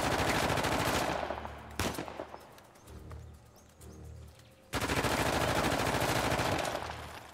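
Rapid automatic gunfire from a third-person shooter video game, Uncharted: The Lost Legacy, bursts loudly at the start and again near the end, with quieter game ambience in between.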